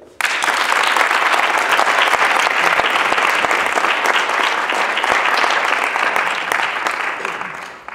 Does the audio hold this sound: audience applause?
yes